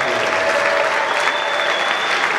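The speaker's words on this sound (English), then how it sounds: "Could you please give her a round of applause?" An audience at a film festival world premiere claps steadily throughout, a dense wash of applause from a large crowd.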